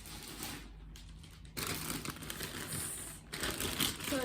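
A plastic shopping bag and an underwear package crinkle and rustle close by, a continuous soft crackling that swells louder in the second half.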